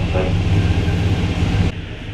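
A train stands at Ōnogō station in Shikoku waiting for an oncoming train to pass, its steady engine and onboard hum rumbling loud and constant before dropping to a quieter idle near the end.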